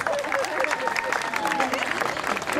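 A loud burst of crowd applause and cheering at a comedy show in Ahuachapán, El Salvador, dense clapping with voices mixed in throughout.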